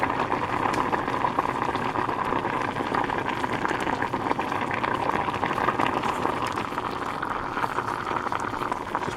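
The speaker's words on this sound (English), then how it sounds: "Alright, it's starting to boil, so I'm gonna grab it and just pour it in." A pot of water comes to a boil on the stove for a rice dish, a steady bubbling hiss with continuous rolling texture, moderately loud and close with no talk.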